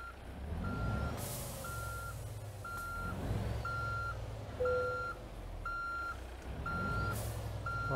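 Steady reversing beeps from a truck backing into a parking spot in Euro Truck Simulator 2, a regular rhythmic series of loud tones over a low idling engine drone, with a brief air-brake hiss partway through.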